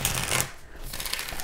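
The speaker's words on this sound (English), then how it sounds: "Here's the shuffling of these cards." A deck of sturdy cardstock tarot and oracle cards is shuffled close up in two quick riffling bursts separated by a brief pause.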